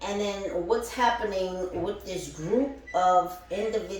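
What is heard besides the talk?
No distinct noise like a dog, phone or traffic.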